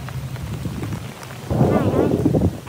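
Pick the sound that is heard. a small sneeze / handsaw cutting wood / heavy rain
heavy rain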